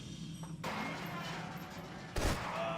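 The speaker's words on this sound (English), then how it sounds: "I'm shooting these guys with bullet time early here to skip the final kill cam" Gunfire in Max Payne 3 during a slow-motion bullet-time sequence, a dense stream of muffled shots and impacts with a sharp louder burst near the end, voice talking over it.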